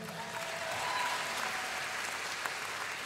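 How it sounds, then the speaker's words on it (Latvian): Steady applause from a concert audience at a live brass trio show in a club, a dense wash of clapping that stays loud and continuous throughout. "Aplausi"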